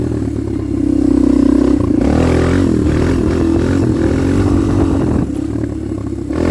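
A Kawasaki KLX 230R dirt bike revs hard on a hill during a wheelie, its engine loud and close, whining up in pitch and then settling into a steady roar.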